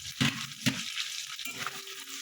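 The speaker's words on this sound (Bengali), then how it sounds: "তাহলে পেঁয়াজটাও ভাজা হবে, আলুটাও ভাজা হয়ে যাবে" Chopped onion and potato frying together in a pan, a soft steady sizzle with a few louder stirring scrapes, quiet and close, with no voices.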